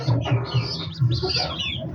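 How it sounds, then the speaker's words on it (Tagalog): Birds call nearby in short, repeated chirps and clucks, a busy cluster of calls at moderate loudness. "Bago na naman nating ibon."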